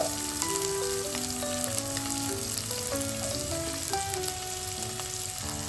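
Finely chopped onion frying in a pan, a dense and constant close sizzle that holds steady throughout, with faint music playing underneath.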